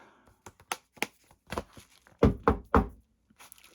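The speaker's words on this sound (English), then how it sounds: "I've knocked on the door." Knocking on a door indoors, with scattered light taps and thuds followed by three firm, close knocks in quick succession and a few faint taps after, with no voices.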